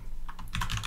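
Brief burst of keystrokes on a computer keyboard during a Quake modding lesson, several quick clicks growing denser and louder toward the end, close up with no voices.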